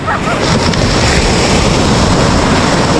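Big ocean waves at a shoreline fishing spot, a loud continuous wash of surf roaring steadily and close, mixed with wind buffeting the microphone.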